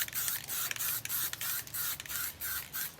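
Primer sprayed onto a Nissan R33 Skyline body, a series of about ten short hissing aerosol bursts in a steady rhythm, close and clear, each separated by brief pauses.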